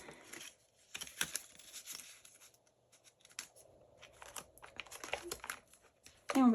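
Someone close by handles an empty paper envelope with soft crinkles, rustles and brief papery taps. There are quiet gaps between the sounds, and a louder rustle comes at the end.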